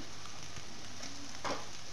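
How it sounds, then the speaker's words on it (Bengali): Brinjal pieces sizzle gently in hot oil in a pan while being stirred, a soft steady frying hiss with faint scraping of the spatula, quiet and without talk. "খুব লাল লাল করে বেগুন ভাজার দরকার নেই জাস্ট একটু নাড়াচাড়া করে নিলাম"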